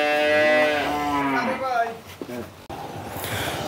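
A dairy cow on a farm in Pabna lets out one long, loud, close moo that slides downward and fades, followed by quieter rustling and farmyard noise.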